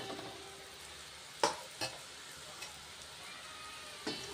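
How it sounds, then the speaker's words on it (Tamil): Pieces of sweet maida biscuit dough frying in hot oil, a faint, even sizzle with a few soft plops and taps as more pieces are dropped in. "இந்த மாதிரி ஒவ்வொரு கட்டமாக எடுத்து நம்ம எண்ணெயில் போட்டுக்கலாம்."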